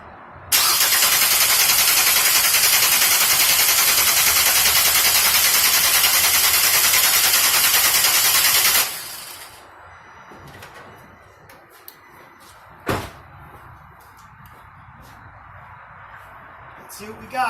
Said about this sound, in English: So I'm going to crank the engine for approximately 10 seconds without stopping.